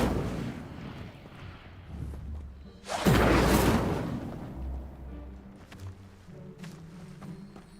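A fire spell cast in the Hogwarts Legacy video game, a sudden loud whooshing burst of flame that swells and then fades into a lingering rumble, following a quieter stretch of low ambient sound.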